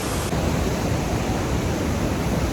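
Niagara Falls roars as a steady, broadband rush of falling water heard from Three Sisters Island, constant and loud, with some wind buffeting the microphone at the start.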